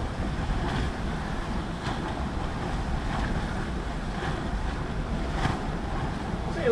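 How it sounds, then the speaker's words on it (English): Steady, broadband rush of wind and churning sea water continues throughout a sailing passage, loud and unbroken, with no clear voices. "See a little bit more wind on the top of the water here."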